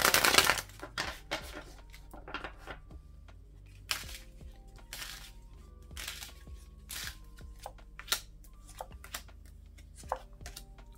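Tarot cards being shuffled in irregular bursts of crisp riffling and slapping, close by, with sharp flicks and pauses between.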